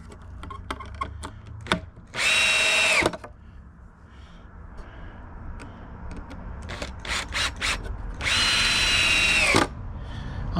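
A power drill drives a screw into a piece of timber on top of a garden build: two loud, close bursts of whirring motor about a second each, separated by clicks and handling knocks.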